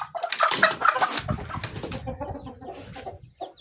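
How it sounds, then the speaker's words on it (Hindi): Hens cluck and squawk busily up close, a burst of agitated calls that tapers into softer clucking. "ये देखें, आ गई मुर्गी भी साथ ही,"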